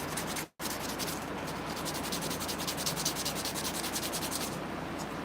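Steady hand sanding on a handmade wooden piece with a natural finish, a close, continuous rhythmic rasp of back-and-forth strokes after a brief pause at the start.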